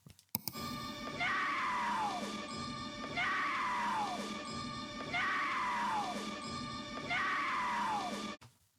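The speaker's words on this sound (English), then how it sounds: "Courtney Cox's scream" Courtney Cox's scream from the film Masters of the Universe, repeated on a loop four times, each a loud sustained shriek with a falling pitch, separated by brief gaps and backed by a steady tonal hum.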